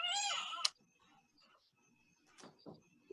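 A house cat that has been tearing up the carpet outside a bedroom lets out one loud, drawn-out meow that cuts off sharply, followed by quiet shuffling and a couple of faint, brief sounds.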